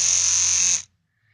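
An electric toothbrush buzzes close up with a steady, high whine for under a second, then abruptly switches off into near silence.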